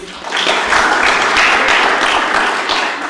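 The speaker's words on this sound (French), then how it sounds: "je vous demande s'il vous plaît de l'applaudir aussi" An audience at a master's thesis defense breaks into applause, the clapping swelling quickly and holding loud and dense for several seconds before easing slightly.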